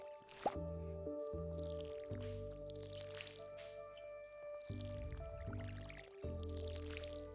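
Empty watering can in the farming video game Stardew Valley, a series of wet dripping squish effects over a steady looping synth melody from the game's music, moderately quiet and with no talking.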